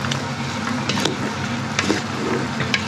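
Beef riblet and pig trotter stew ingredients are mixed together: a few seconds of wet stirring and sloshing, with occasional sharper scrapes and knocks over a steady sizzle-like hiss, and no talking.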